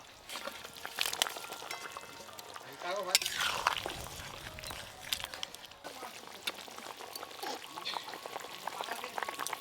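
Fried shol fish goes into a tomato and potato gravy boiling in a pan, with splashing and bubbling close by and a voice talking over it.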